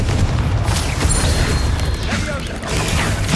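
Confringo fire spell blasts in the Hogwarts Legacy video game, a dense loud rumble and crackle of explosions layered over continuous battle noise and game music, with no clear gaps.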